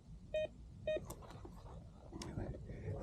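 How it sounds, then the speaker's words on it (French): Two short electronic beeps from a metal detector near a stream, with a faint third tone later, over steady outdoor background noise and water. "Voyez, on a un bip ici."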